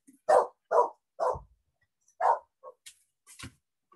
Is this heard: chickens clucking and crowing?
no